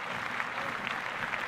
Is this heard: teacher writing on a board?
no